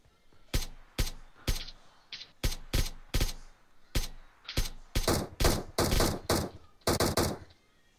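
Gunshots ring out in the video game PUBG Mobile, loud and close: sharp single shots first, then quicker bursts of fire, with short gaps between them. No one speaks.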